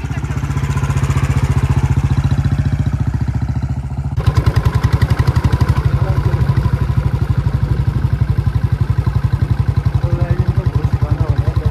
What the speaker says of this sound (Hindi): मैं सीखने वाली हूँ बुलेट चलाना।